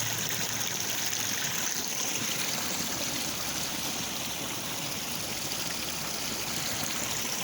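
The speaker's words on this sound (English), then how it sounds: "there's quite a bit of water flowing here." Water flows steadily through a stream in a municipal forest, a continuous broadband rush and trickle that stays close and even throughout with no voices.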